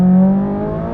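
A McLaren 570S with 562 horsepower accelerating in sport mode gives a loud, steady engine tone with a rising pitch, heard close and alone for about a second.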